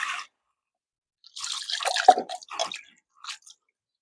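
Clay cooking pot being scrubbed and rinsed with water inside, giving wet squishing rubs and drips in a few short bursts, close and moderately loud with gaps of quiet between.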